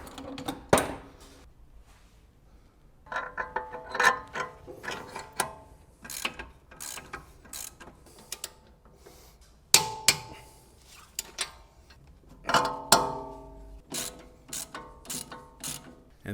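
A ratchet tightens suspension bushings on a BMW E39 M5, its clicking pawl coming in short bursts separated by pauses, with occasional metallic clinks of tools between strokes.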